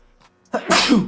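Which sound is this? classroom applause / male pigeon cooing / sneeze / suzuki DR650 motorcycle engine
sneeze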